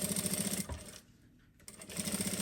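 A sewing machine stitches a narrow seam on a handbag, its fast rhythmic whir running close and steady, dropping out for a brief pause midway before resuming.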